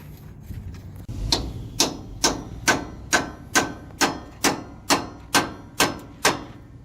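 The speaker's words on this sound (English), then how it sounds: "my brother started removing the bolts" Bolts being worked loose from a Peterbilt truck frame, heard as a steady series of about eleven sharp metallic impacts at an even rhythm, close and fairly loud, with no talk.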